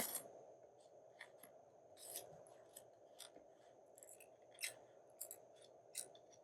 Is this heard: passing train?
no